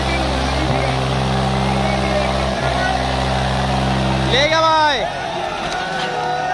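Eicher 485 and Swaraj 855 tractors in a tug-of-war contest at Budina Kalan: a steady, droning engine hum runs beneath excited shouting, then a sweeping whoosh cuts in near the end.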